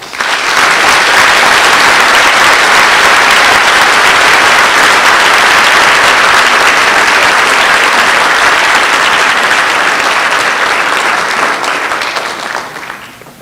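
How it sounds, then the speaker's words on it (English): Sustained, loud applause from a crowd honoring new National Honor Society inductees at a school ceremony, a dense wash of clapping that runs steadily for about twelve seconds before tapering off at the end. "If everyone could give a round of applause to all new inductees."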